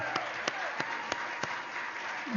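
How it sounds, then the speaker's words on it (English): At an E3 Africa 15th anniversary gathering in Phoenix, Arizona, five slow, evenly spaced claps ring out over a steady murmur of room noise, crisp and fairly close. "Clap for these guys. Clap for them."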